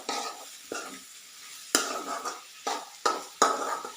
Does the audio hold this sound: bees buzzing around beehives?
no